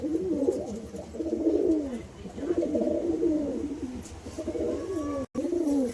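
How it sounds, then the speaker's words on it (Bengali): Madras and Giribaz flying pigeons coo in repeated rolling, overlapping phrases close by, a steady run of calls through the whole stretch with only a brief break near the end. "এগুলো সবই উড়ানো পায়রা"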